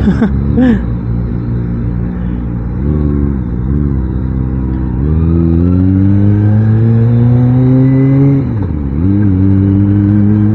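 A Kawasaki Ninja ZX25R motorcycle crawling through heavy city traffic, its engine droning steadily and rising in pitch through repeated revs and gear changes, loud and close, with no talking over it.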